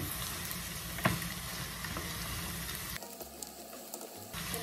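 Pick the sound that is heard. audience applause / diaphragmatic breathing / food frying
food frying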